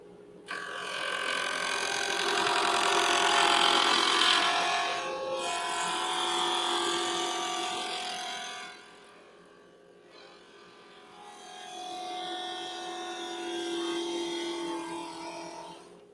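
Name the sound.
wood lathe spinning at 2,600 RPM turning a pen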